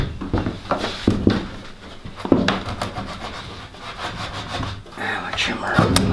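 A hand saw rasps back and forth through a wooden support piece for a sheep milk stand, a series of rough, uneven close strokes with brief pauses between them.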